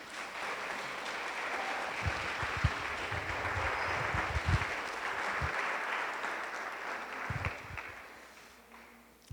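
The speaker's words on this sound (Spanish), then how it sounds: "¿Por qué no le damos otro fuerte aplauso a Jesús?" A church congregation applauding together after a prayer, sustained clapping that swells and then tapers off, moderately distant, with no one talking over it.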